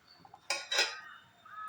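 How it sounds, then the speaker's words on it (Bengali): Spoon clinking and scraping against a bowl while rice flour, coconut and salt batter is mixed, two clear bursts of stirring close by, no talk. "এবার আমি ভালো করে মিশিয়ে এটা একটা ব্যাটার তৈরি করে নেব"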